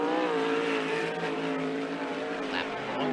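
Sportsman sprint car number 13 running hot laps on a dirt track, a loud sustained engine roar with steady harmonic drone, the car heard at speed throughout.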